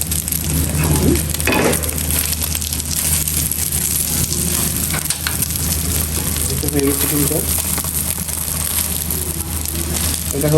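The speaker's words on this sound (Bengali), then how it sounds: "এটা হচ্ছে বুসকেবিন স্টাইলের ডিম ভাজা" Eggs for a Narayanganj cabin-style omelette fry in a hot pan with a continuous sizzle, broken by a few light clinks and stirring sounds from the cookware.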